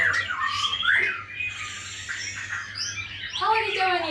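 White-rumped shamas (murai batu) call at a bird training school, a busy overlapping stream of sharp squawks, whistles and chirps, close and continuous for several seconds.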